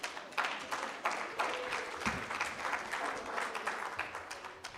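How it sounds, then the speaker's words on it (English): Conference audience at a women's economic forum in Kenya applauding steadily, a dense sustained clatter of many hands with a few sharper peaks, fairly close and continuous throughout, no voices over it. "Let's give her another round of applause"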